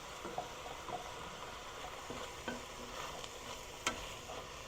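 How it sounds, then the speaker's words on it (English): Cheesy zucchini fries and sizzles in a pan under a steady hiss while a utensil stirs it, scraping and clicking several times, with one sharper knock near the end. "And go ahead and stir that up."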